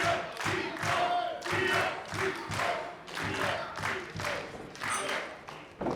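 Crowd at a Chaotic Wrestling Boston Brawl show cheering and chanting in rhythmic swells, loud and close, with claps and thuds from the ring mixed in.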